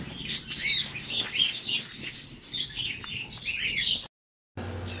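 Many birds chirp and tweet densely and loudly in an aviary in Panabo City, Davao del Norte, a continuous close chorus of overlapping calls with some cooing, cut by a brief drop to silence near the end.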